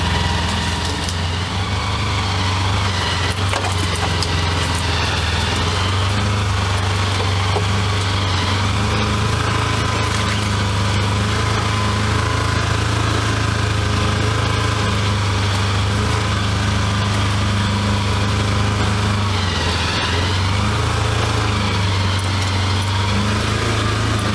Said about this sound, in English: this little Ranger, four-wheel driving this thing works really well. It goes up these hills, no problem.